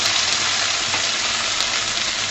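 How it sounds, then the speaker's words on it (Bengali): Okra dropped into hot oil in a pan for bhindi aloo, giving a loud, dense, continuous sizzle that holds steady throughout. "সমস্ত ভেন্ডি আমি দিয়ে দিচ্ছি।"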